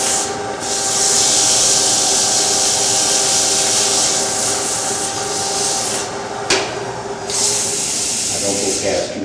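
Steady hand sanding of a wood carving, a continuous close rasping hiss that runs for several seconds with brief pauses and slight shifts in stroke.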